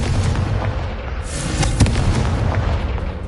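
A Confringo spell explosion in Hogwarts Legacy, a dense, loud, rumbling blast that hits and then fills the whole stretch with sustained roaring noise and crackle.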